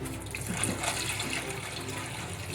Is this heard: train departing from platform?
no